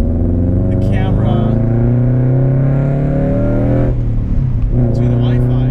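A car engine drones loud and close, its pitch rising and dipping as it accelerates and shifts, with a voice talking over it.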